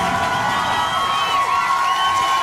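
Audience at a children's concert cheering and clapping in a steady, dense wash of crowd noise, with shouts and whoops rising over a continuous roar.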